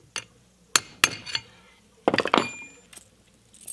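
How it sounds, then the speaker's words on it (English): Bearing races in a cement mixer are driven home with a brass drift, giving a series of sharp metallic taps: a few separate close strikes and then a rapid cluster, with a faint ringing between the hits. "And then I'm using a brass drift to go the rest of the way."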